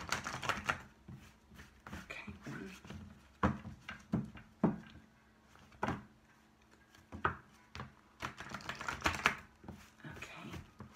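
A deck of crystal cards being shuffled, giving irregular bursts of crisp riffling and tapping separated by short quiet gaps, close and fairly soft.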